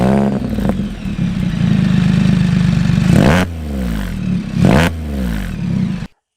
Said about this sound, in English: the most loudest you can go is, of course, Lamonster pipe